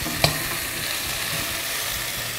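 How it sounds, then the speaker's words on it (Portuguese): Vegetables being sautéed in a pan for a soup give a steady, continuous sizzle throughout, with one brief clink or stir near the start and no talking. "E vamos continuar esse refogado."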